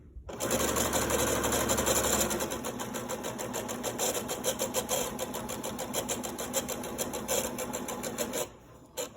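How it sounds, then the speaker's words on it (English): A sewing machine runs steadily as it stitches fabric for a chicken-shaped grocery bag holder, loud and continuous at first, then a denser rattling run with no talk over it before it stops near the end. "we're only gonna be sewing along this portion right here"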